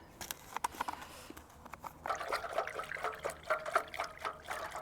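Liquid plant feed pours from a watering can onto already damp allotment soil, starting as a sparse trickle and patter, then becoming a steadier splashing stream.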